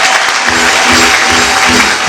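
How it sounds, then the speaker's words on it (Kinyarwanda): A church congregation applauding together, a loud, dense, sustained clapping that fills the room close by, with a faint voice underneath. "Dukomere Imana amashyi"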